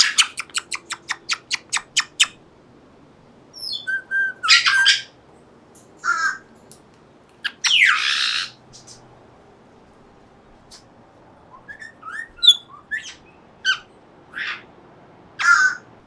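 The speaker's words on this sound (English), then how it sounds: "That was a good crow noise." A pet bird gives a series of crow-like caws and squawks, starting with a fast run of short sharp calls and then scattered louder squawks with gaps between them, close by and without talk.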